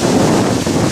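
Strong wind blasts across the microphone on Ryogaiyama mountain in stormy spring weather, a loud continuous roaring rush with no pauses or voices.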